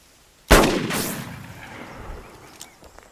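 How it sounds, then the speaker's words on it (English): A single loud gunshot aimed at a bottle cracks sharply and rings out in a long fading echo, with a faint later clink and no talking. "Shoot the bottle."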